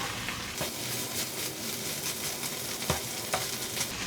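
Prawns and onions fry in a pan for an Andhra-style prawn fry, with a steady sizzle and scraping stir strokes, a few sharper clinks of the spatula against the pan, close and without talk.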